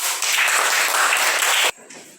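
Children in a spoken English class clapping for a classmate, a steady burst of applause from the group that stops abruptly, leaving quiet room noise.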